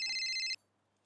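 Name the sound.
telephone ringing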